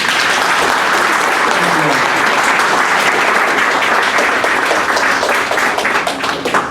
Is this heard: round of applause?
yes